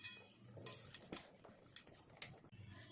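Cabbage pickle ingredients, with turmeric among them, being mixed in a bowl, making soft scraping and clinking of a spoon against the dish in irregular strokes, fairly quiet and close, with no talking.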